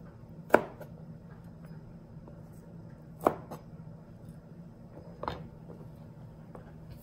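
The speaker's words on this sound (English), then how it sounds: "I'm gonna cut off the little hard ends on the garlic" Three crisp knife chops strike a cutting board at uneven intervals as the hard ends are trimmed off peeled garlic cloves, close and distinct over a quiet kitchen background.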